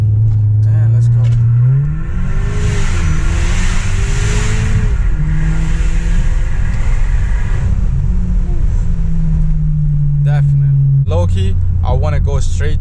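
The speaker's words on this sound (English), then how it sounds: "Let's do launch control now. Foot on the brake, gas 3000, and let's go." Integrated Engineering Stage 1 tuned car doing a launch-control start: engine held near 3000 rpm then a loud, continuous rising rev and hard acceleration through gear shifts, close and dominant throughout, with a voice speaking over it.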